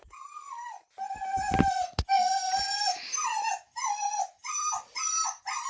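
A pet dog named Hank whimpers and howls up close, drawn-out whining cries rising and falling in several separate bursts with brief pauses between them, plus a sharp knock partway through.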